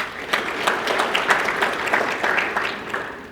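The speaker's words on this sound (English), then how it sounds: "So please give them a round of applause." An audience at an orthopaedics society general meeting applauds the event sponsors, a moderate, even patter of many hands clapping that swells slightly and then tapers toward the end.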